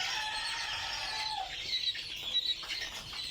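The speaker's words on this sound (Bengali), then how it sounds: "অনেক ভালো লাগে কোয়েল পাখির বাচ্চাগুলা" Quail chicks call in a small group, thin high peeping chirps that are faint and continuous, with no voices.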